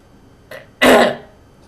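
A short, soft cough followed by a loud, harsh throat clearing, close up and alone.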